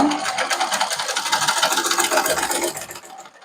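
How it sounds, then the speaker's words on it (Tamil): A sewing machine stitches chudidar fabric with a loud, close, rapid mechanical whirring chatter that runs steadily and then slows toward the end, with no talking. "இப்படி அந்த கோட்டுக்கு மேலே ரெண்டு தையல் தைச்சிக்கொள்ளுங்க"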